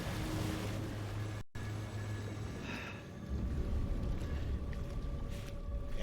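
Steady sloshing water and rolling waves aboard a collapsing oil rig in Still Wakes The Deep, a continuous low wash with wind-like hiss at moderate loudness.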